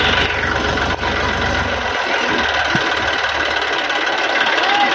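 A tractor engine runs at a steady idle, its low throbbing close and continuous, with a short knock near the start and a faint voice in the background.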